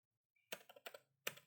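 A handful of crisp, close clicks come from typing on a computer keyboard, in short uneven bursts with brief silent gaps, quiet and alone.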